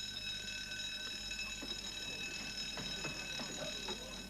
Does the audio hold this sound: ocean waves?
no